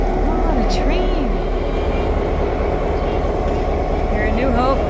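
A New Hope Railroad train rolls past at New Hope, a steady rumbling drone close by, with voices chatting over it throughout.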